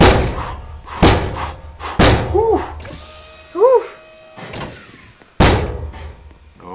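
A door slams shut in a Roblox horror game, a single heavy thud amid loud game noise and several sharp impacts, with people talking over it.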